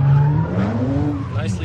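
Tires on a Kia Stinger squeal as it drifts through a 360 donut at a SEMA 2017 drift event, a loud close skid with engine noise and a voice talking over it.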